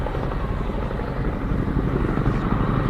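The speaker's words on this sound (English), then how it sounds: "The Chinook is the only helicopter that can possibly carry its own weight underneath." A Boeing Chinook twin-rotor helicopter flying at the RIAT 2014 airshow produces a loud, continuous thumping rotor roar with deep low rumble, steady throughout and close overhead.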